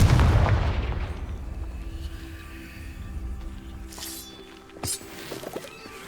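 A Confringo spell explodes in Hogwarts Legacy with a heavy low boom that fades into a rumbling tail, followed by faint magical chimes and a brief sharp crackle.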